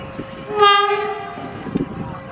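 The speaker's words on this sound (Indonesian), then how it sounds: "Padahal keretanya berhenti tapi perlintasannya ditutup" Train at a high mountain station beside a closed level crossing sounds its horn in one loud chord-like blast lasting about a second, over a low rumble and faint clanks, fairly close.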